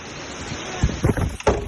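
Strong wind gusts buffet outdoors, rumbling in low bursts that swell and rise in roughly three surges in the second half over a steady windy backdrop.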